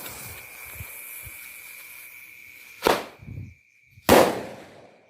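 Two sharp fizzing bursts from 25-shot roman candle fireworks go off a second apart, with a steady high insect-like whine running underneath and faint thumps before.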